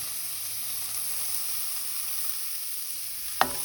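French beans and red capsicum frying with mung bean sprouts in a pan, a steady high sizzle throughout with a single sharp clink of a utensil near the end.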